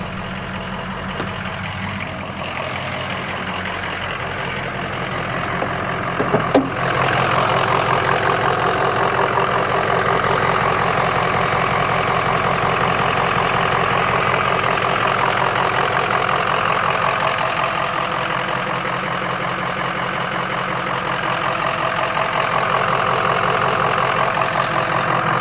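A 2005 Ford Excursion with a 6.0L Powerstroke diesel idles just after a cold start, a loud, steady, close diesel clatter with a brief knock early on, then an even drone to the end with no talking.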